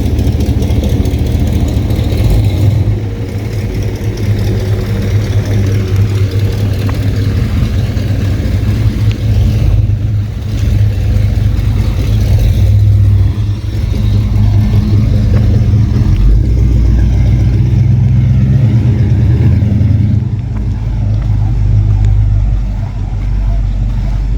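A 1955 Chevy Tri-5 car, just fitted with disc brakes, runs with a steady, close engine rumble that holds at an even, idling-like level throughout with no talking.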